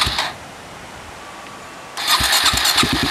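A mud vehicle's engine turns over and catches near the two-second mark, then runs with a loud, rough, pulsing rumble after a quieter stretch of background noise.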